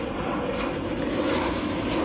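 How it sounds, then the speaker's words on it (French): An airplane flies overhead, a steady broad roar that holds at a fairly loud, even level throughout, with no voices. "il y a un avion"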